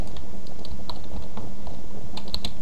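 Typing a command on a computer keyboard while playing Minecraft, with a rapid, uneven run of close key clicks over a low room hum and no voices.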